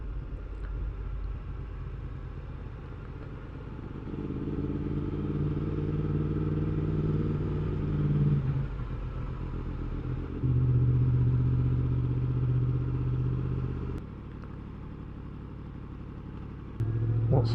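Motorcycles ride past beside Wastwater lake in the Lake District on a busy day, their engines a steady mid-pitched rumble that swells and fades as bikes approach and pass at moderate distance.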